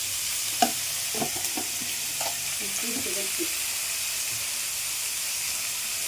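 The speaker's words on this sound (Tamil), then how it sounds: "இது அப்படியே வதங்கட்டும். இதுவும் வதங்குது." Tomatoes with salt and chili powder sauté in a pan, giving a steady, close sizzle and hiss with a few soft stirring clicks and no talking.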